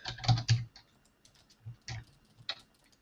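Irregular clusters of keystrokes on a computer keyboard while writing WordPress PHP code, with quick bursts of clicks separated by short pauses, close and clear with no talking.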